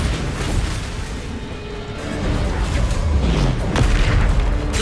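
A Bombarda blast spell in Hogwarts Legacy booms with heavy low rumbling and a dense crackling roar, building slightly louder with a couple of sharper impacts toward the end.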